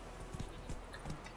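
Horse hooves clip-clopping in The Witcher 3, a short run of soft, evenly spaced hoofbeats on a road under a steady background hiss, moderately close.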